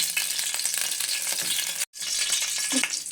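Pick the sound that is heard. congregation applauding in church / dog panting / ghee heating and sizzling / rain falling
ghee heating and sizzling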